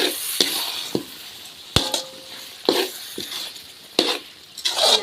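Chicken fry being stirred in a pan with ground coconut, fennel and cumin, giving repeated scraping stirs and light clinks of a utensil against the pan over a soft sizzle, close and fairly loud.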